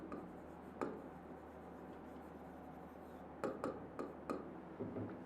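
Chalk or marker scratching out a sentence on a classroom board during an English grammar lesson: a series of short taps and strokes, sparse at first then clustered, close and clear over a quiet room hum with no talk.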